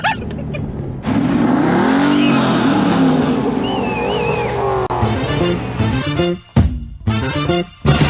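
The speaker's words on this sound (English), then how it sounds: "Gas all the way down. Now off the brake, go." A C8 Corvette launches from a standstill and accelerates hard, its loud engine roar rising through the gears, with brief gaps as it shifts near the end.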